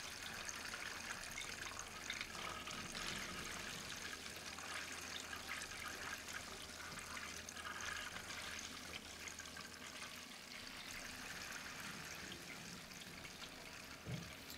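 Coloured coolant trickles and gurgles through the water-cooling loop of a gaming PC as it is filled, a faint, continuous liquid flow with no talking.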